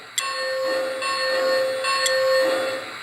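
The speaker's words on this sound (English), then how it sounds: "Here's the bell." Lionel LionChief Plus Nickel Plate Road #767 model train ringing its electronic bell, a steady repeating clang at an even rhythm, close and clear with no voices.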